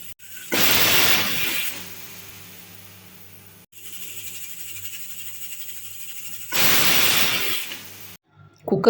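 A pressure cooker releases two loud bursts of hissing steam, each lasting about a second, separated by a quieter steady hum.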